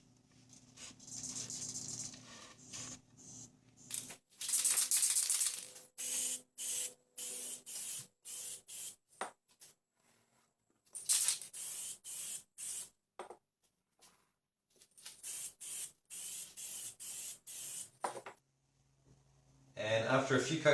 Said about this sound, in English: And after a few coats of spray lacquer